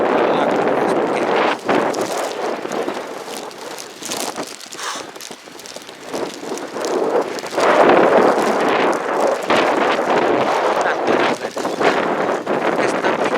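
Gusty outdoor wind buffets a microphone in a broad, steady roar, swelling and easing in waves through most of the stretch, with brief dips and no clear speech.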